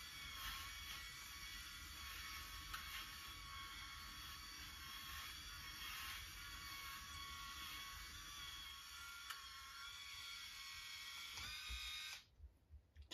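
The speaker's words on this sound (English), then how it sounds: "We'll give my head a quick shave." A Tustaw magnetic rechargeable electric head shaver buzzes steadily and close as it passes over a bald man's scalp, a continuous high whine with slight scraping shifts, running alone without talk before cutting off near the end.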